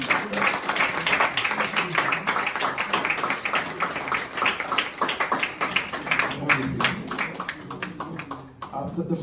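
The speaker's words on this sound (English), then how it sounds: "a round of applause for His Excellency" Audience applause in a hall as His Excellency is welcomed to the podium at a Nigerian students' event in Cambridge, a dense, steady wash of many hands clapping throughout before tapering at the end.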